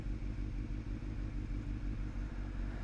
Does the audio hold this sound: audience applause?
no